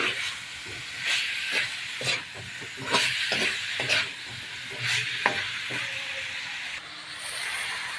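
Meat gravy sizzles and hisses in a pan as raw garlic is added, with repeated bursts of frying noise and stirring scrapes rising and falling close by.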